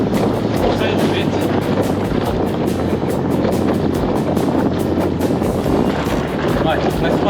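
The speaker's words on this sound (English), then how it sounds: "Nice strong wind now." Strong, steady wind of about 20 knots roars over a balanced lug-sail boat, with constant close buffeting and water rushing throughout.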